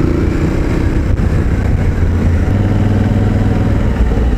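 Aprilia Tuareg 660 motorcycle engine on a test ride, a loud, close, steady low engine drone with a slight shift in pitch partway through and road noise underneath.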